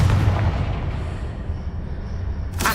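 The Confringo fire-blast spell in the video game Hogwarts Legacy lands as a heavy, booming explosion at the start, then a rumbling tail decays. A sharp crack strikes again just before the end.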